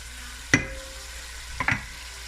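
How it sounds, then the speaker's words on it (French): Smoked herring frying in a pan, a steady close sizzle broken by two sharp scrapes or knocks of a utensil against the pan. "Je vais laisser frire un peu plus."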